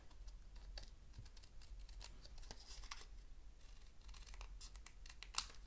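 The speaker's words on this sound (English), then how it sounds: "Turn it around and trim it." Paper is trimmed for a Halloween pinwheel card, with a series of quiet, close snips and scratchy paper sounds and a brief sharp click near the end.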